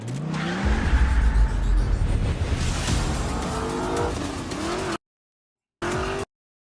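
Cars drive and rev at a stunt show, with loud continuous engine roar, revving and tire squeal for about five seconds before cutting out, then a brief burst of the same.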